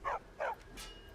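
Two short, sharp dog barks sound close together in a video game, followed by a quieter yelp.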